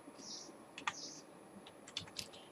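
Quiet typing on a computer keyboard while entering SQL code: scattered, irregular key clicks with short pauses, a few sharper taps, close and soft with no talking over it.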